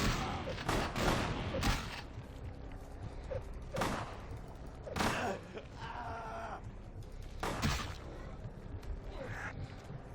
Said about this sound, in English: no, not the shotgun, not the shotgun.